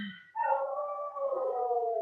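A single drawn-out howl rises and then holds a long wavering tone, close and clear against near silence.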